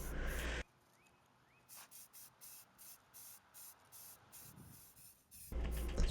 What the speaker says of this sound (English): Just shake up the can and spray around.